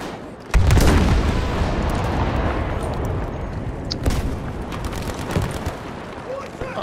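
Battlefield V squad match with a heavy, continuous barrage of gunfire and booming explosions starting after a brief quiet moment, dense and loud throughout with sharp blasts near four and five seconds and a player's voice mixed in.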